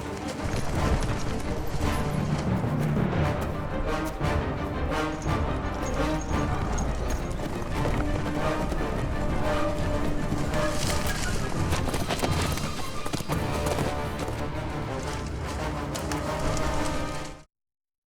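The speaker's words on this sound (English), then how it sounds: "making horse chasers be like car chasers" Horses gallop at speed in a staged chase for the 2006 BBC Robin Hood series, dense clip-clop of hooves under a full music score, loud and continuous throughout before cutting off abruptly.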